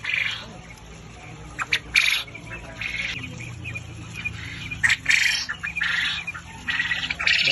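Quail on a quail farm give repeated sharp chirps and calls in bursts over a steady low hum of background noise, with several birds calling at middle distance.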